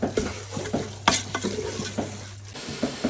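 Chicken mince being stirred in a pot for keema with coriander powder, a spoon scraping and knocking in repeated strokes over a soft sizzle, close and fairly loud.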